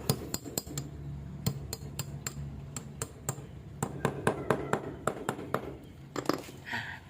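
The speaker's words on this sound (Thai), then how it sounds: "แล้วก็ทำการตอกตะปูเข้าไปเลยครับ" A hammer drives a nail into a concrete building block with a run of sharp metallic strikes, irregular then faster, close and distinct over a quiet background.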